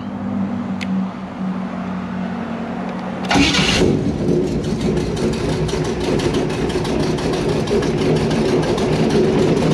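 A 383 V8 airboat engine, just repaired after a blown head gasket, cranks and catches after a few seconds of quiet, then runs steadily with a loud, throbbing idle.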